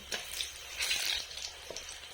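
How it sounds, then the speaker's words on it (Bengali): Steady oily sizzling of taro koftas frying in oil in a pan, with a few soft stirring clinks, no voices, moderately close. "সবগুলো তেলে দিয়ে দিয়েছি এবার এর বডি নেড়ে লাল করে ভেজে দেব"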